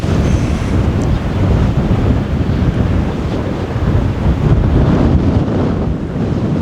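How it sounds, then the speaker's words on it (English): A strong headwind roars across an open disc golf course during a New Zealand tournament, a loud, continuous rushing buffet of wind noise against the microphone with no talk. "the headwind is just trying to stall every shot we're gonna throw here"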